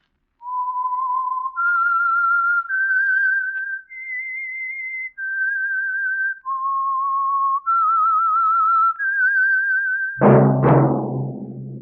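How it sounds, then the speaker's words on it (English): A lone whistler carries a slow, wavering melody of sustained notes, the signature theme of the old radio show The Whistler, ending in a brief burst of orchestral music. "That whistle is your signal for the Signal Oil Program, The Whistler."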